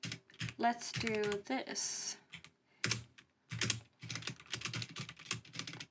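Close keyboard typing for entering a new string in a programming tutorial, rapid uneven clusters of key taps that follow brief speech and a burst of other noise.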